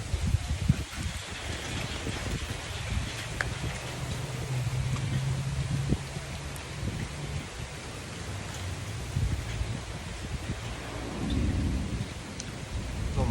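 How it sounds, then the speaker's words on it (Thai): Steady rain pours down with a constant hiss while low rumbles of thunder roll underneath, fairly close and sustained throughout. "พายุเขาครับ"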